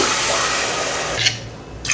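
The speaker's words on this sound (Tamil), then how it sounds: "அடுத்து தண்ணி சேர்த்துடலாம்" Water poured into a cooking pot holding rice and lentils with tomato and turmeric, a steady close splashing gush that eases off toward the end, with no voices.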